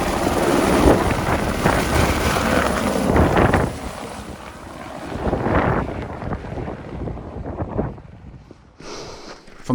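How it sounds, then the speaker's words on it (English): A helicopter's steady roar mixed with wind buffeting on Mount Everest, loud at first and easing off toward the end. "The chopper dropped me and the other passenger off before heading off to base camp"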